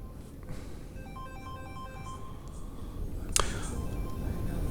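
A phone rings during a video call about map bearings, with faint tonal ringtone lines running under a steady background hum and a brief sharp click partway through; no talk is audible.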